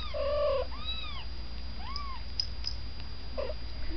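A kitten meows several times in a row, each call rising then falling, with short pauses between; close by with no voices.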